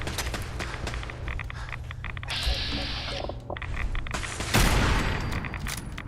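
Weapon fire in the video game Sim Settlements 2 crackles in rapid bursts of shots, with a sharp louder volley toward the end and some footstep-like movement between.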